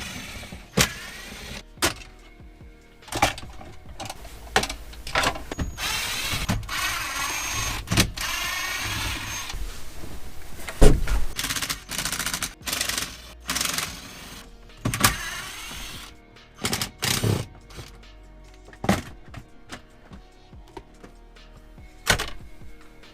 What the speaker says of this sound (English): Now I'm gonna start taking the trim off the dash.